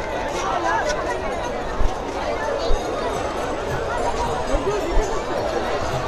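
Crowd of pilgrims at a Haridwar ghat in Hindi-speaking India, a steady dense babble of many voices near and far with scattered footsteps and occasional louder thumps, continuous throughout.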